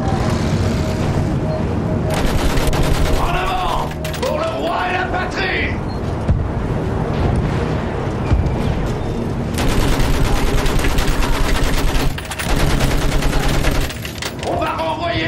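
Sustained machine gun fire in the Battlefield 1 World War I campaign, a dense roaring stream of rapid shots with booms and battle noise, loud and near, with shouting voices underneath.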